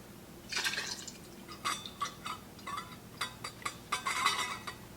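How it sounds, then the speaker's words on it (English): Oil poured into a mason jar for confit garlic, a series of small liquid drips and glugs with faint glass clinks, close and quiet, occurring in irregular bursts. "I'm going to start with a little oil in our jar, because I don't want any air bubbles."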